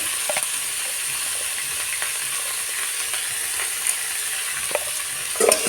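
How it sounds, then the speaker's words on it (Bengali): Fenugreek greens frying with salt and turmeric, a steady close hiss of sizzling oil with occasional soft stirring scrapes against the pan. "এবার ভালো করে একটু ভেজে নেব"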